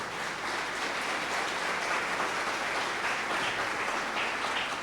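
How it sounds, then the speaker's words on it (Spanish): A church congregation applauds during a sermon, a continuous wash of many hands clapping at moderate distance, even and sustained without a break. "Denle el aplauso al Señor por eso."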